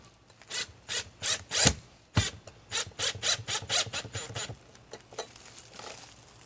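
A solar security light is installed by hand, screws driven into pre-drilled pilot holes with a run of short rhythmic scraping twists and a couple of sharper clicks, close up, with no talking.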